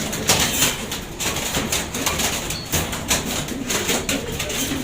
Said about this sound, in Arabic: وده حمام